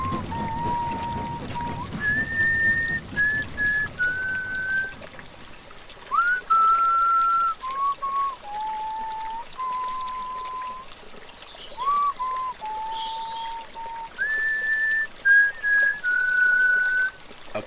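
A man whistles a slow, wandering tune of held notes and small steps near a bridge in an audiobook drama, with a watery trickle in the background for the first few seconds.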